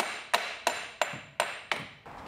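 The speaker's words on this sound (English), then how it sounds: "If we give that a few taps of a hammer, that'll pull it out of the gearbox" Five sharp metallic hammer taps on a Ford Mondeo Mk5 driveshaft joint, evenly spaced about a third of a second apart, close and fairly loud with short ringing decay.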